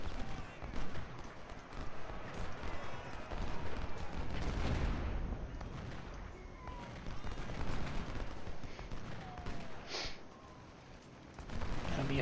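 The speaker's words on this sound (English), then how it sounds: "Here I am enjoying the sounds of shooting things." Continuous distant musket and artillery fire from a Civil War battle in Ultimate General: Civil War rumbles as a dense, fairly faint battlefield wash with scattered cracks.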